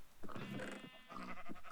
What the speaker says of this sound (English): How are we doing on our sheep here?